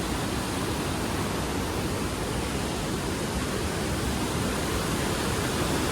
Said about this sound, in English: Can you hear the gushing sound?